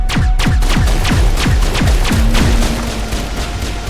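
Rapid, loud gunfire from the video game Mass Effect, a dense run of about nine heavy booming shots in steady rhythm over constant background game noise, with no talking.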